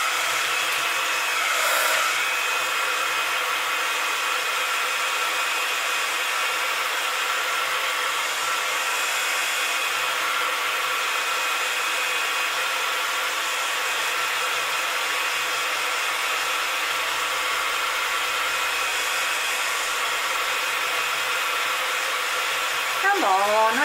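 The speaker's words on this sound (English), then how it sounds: "I'm just going to give that a blast with the heat gun" Heat gun blowing steadily to dry paint on a crafting card, a loud, close, continuous whooshing roar lasting throughout with no talk.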